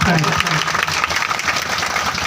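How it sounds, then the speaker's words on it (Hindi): A crowd at a village meeting about mining and resettlement claps loudly in welcome, a thick burst of applause with a voice faintly audible underneath. "एक बार जोरदार तालियों आप लोग स्वागत करें"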